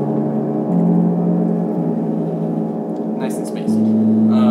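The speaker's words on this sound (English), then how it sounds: "Another one of the FSRs connects to a reverb," Laser bass notes through a reverb whose dry-wet balance is controlled by a force sensor, giving a sustained, washed, droning bass tone that shifts pitch, with a few brighter flickers near the end.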